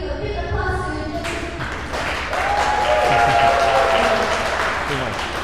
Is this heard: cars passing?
no